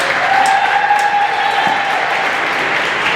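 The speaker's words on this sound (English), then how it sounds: "One more round of applause for Euro American Red." A continuous wash of crowd applause at a state curling championship, dense and steady throughout, with a brief tonal whistle-like ring early on.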